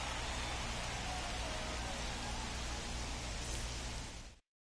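Steady hiss of heavy rain falling over a baseball stadium during a rain delay in MLB The Show 24, Phillies against Marlins, a constant broadband wash with no voices, cutting off abruptly near the end.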